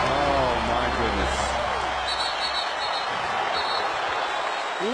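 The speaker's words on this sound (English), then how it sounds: "Listen to this crowd." A large arena crowd at an NBA basketball game roars continuously at a distance as Kobe Bryant scores toward 81 points, a sustained wash of cheering with a voice talking faintly over it.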